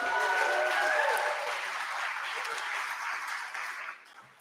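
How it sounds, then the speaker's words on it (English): Audience applause at a live award show in Nanaimo, BC, for a jazz quartet that has just played: a dense, steady wash of many hands clapping, fading slightly toward the end, with faint voices mixed in. "Can we get an applause for them?"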